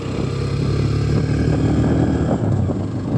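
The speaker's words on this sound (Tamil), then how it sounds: "3வது கியர்ல ஏற மாட்டேங்குது வண்டி" Motorbike engine labouring uphill in third gear on a trip road, a steady loud drone throughout with no clear revving peaks, close to the rider and without talk.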